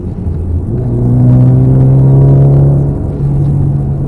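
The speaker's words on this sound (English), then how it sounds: "the noise when you're driving it windows up, everything, there's nothing to really worry about." Cabin drone of a car rolling on Accelera 651 Sport tyres with the windows up, a steady low rumble with a rising engine hum as it accelerates, loud and continuous with no talking.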